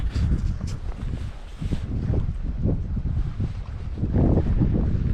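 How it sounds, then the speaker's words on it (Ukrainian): Strong, gusty wind blasts steadily against the microphone outdoors while fishing, a dense low rumble that never lets up. "Вітер сильний, звісно"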